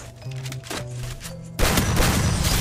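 Gunfire in the video game Free Fire: after a stretch of tonal game music, a loud, dense burst of shots erupts and keeps roaring to the end.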